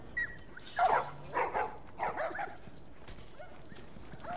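Dogs in The Last of Us Remastered video game bark in a few separate bursts, moderately loud against a quiet background.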